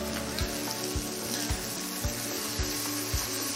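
Bacon frying in a pan over lowered heat, a steady close sizzle with a regular soft knock or tap recurring about every half second underneath.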